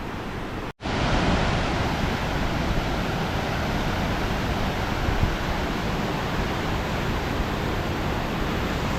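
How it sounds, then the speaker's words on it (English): Powerful river water rushing in a wilderness setting along a long-distance hiking trail, a steady, loud, broadband roar that fills the clip without letup after a brief dropout near the start. "That's some powerful water right there."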